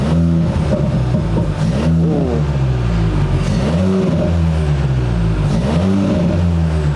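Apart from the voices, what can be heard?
Seat Leon MK4 ST revving with straight-pipe quad exhaust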